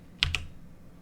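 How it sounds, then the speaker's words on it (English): Two quick computer keyboard keypresses, WASD keys tapped to launch the cue ball in a Unity pool table game, close and crisp in a quiet room. "I just use the WASD keys to launch the ball"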